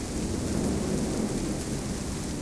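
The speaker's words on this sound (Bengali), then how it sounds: "প্রথমে গুঁড়ি পরে মুষলধারে শুরু হয় বৃষ্টি।" Rain falling in Nilphamari during a Thursday afternoon downpour, a steady dense hiss of heavy rain that stays loud and unbroken throughout, with no voices.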